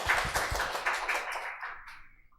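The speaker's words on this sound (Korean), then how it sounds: "박수하십시다." A church congregation applauds during a Sunday service, a dense burst of clapping close by that fades out over about two seconds.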